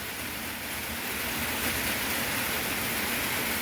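Heavy rain pours down steadily outdoors, a dense, constant hiss with low rumble and no breaks, moderately loud and without any voices.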